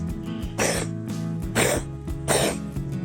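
A cat gives three harsh, wheezy coughing bursts in a coughing fit, at roughly even intervals, close and fairly loud, with a low background hum throughout.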